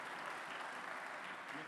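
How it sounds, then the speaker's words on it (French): Short, steady burst of audience applause at a French conference plenary session greeting a speaker, a dense, even clapping wash heard from some distance. "je crois qu'on peut applaudir Christophe"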